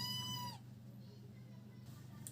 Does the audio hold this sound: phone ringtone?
no